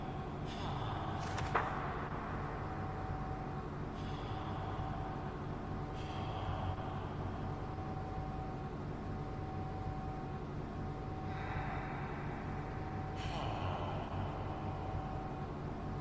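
A New York 7 subway train running without stopping: steady loud rumble and rolling roar throughout, with occasional higher screeches and hissing swells from the wheels and cars.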